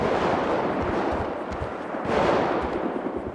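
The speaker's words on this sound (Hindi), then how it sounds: "ओ शिट, अब गोलियां चल रही हैं।" Rapid bursts of gunfire in the video game GTA 5 crackle and boom in quick succession, loud and dense, with a rumbling blast in the middle.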